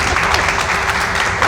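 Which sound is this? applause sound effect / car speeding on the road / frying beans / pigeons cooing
applause sound effect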